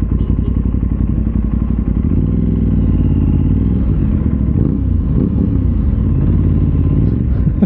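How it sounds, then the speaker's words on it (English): An Aprilia RS660 Extrema sport bike engine under braking, a steady loud motor rumble with irregular popping and clattering thuds scattered through it, close and continuous. "I don't know if you can hear it, but that engine is popping"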